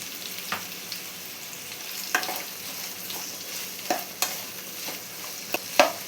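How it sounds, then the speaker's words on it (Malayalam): Chopped capsicum sautéing with salt in a pan for egg chilli, a steady soft sizzle broken by occasional sharp scrapes and clinks of a spoon stirring against the pan. "ഇതിലേക്ക് ആവശ്യത്തിനുള്ള ഉപ്പും കൂടി ചേർത്ത് കൊടുത്ത് ഇതൊന്ന് സോട്ട് ചെയ്തെടുക്കണം."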